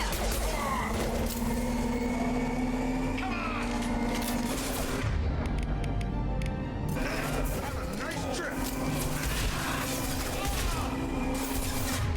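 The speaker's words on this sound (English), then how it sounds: "these rockets deal pretty bad AoE damage" Rocket explosions in the video game Mass Effect 2, dense booming blasts and rumbling gunfire layered over continuous game music and effects, with a player talking over much of it.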